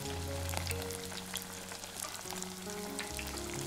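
Thai shrimp cakes fry in oil heated to about 170 degrees over low heat, giving a constant bubbling sizzle. Close and even throughout, with no talking.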